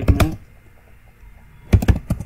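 Computer keyboard keys tapped to enter a Linux mv command, two short bursts of quick clicks separated by a pause, close and crisp.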